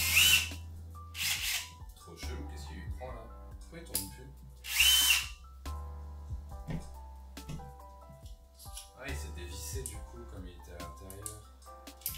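A power drill bores holes during DIY decor installation, with repeated bursts of whining motor and grinding bit starting and stopping through the stretch, fairly close and loud in a quiet room.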